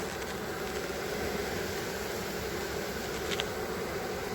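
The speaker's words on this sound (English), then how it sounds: "You see all the bees. Hear that. Just hear that." Honey bees being poured into a hive make a steady, dense buzz that fills the whole clip, with no talking.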